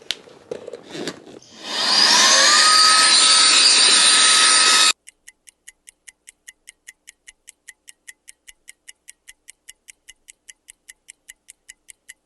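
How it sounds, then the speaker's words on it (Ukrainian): A few clicks and knocks, then a small vacuum cleaner motor inflating an inflatable boat's second chamber whirs up and runs loudly before stopping abruptly; a regular faint ticking follows. "І другий балон цей пилосос також надув без проблем"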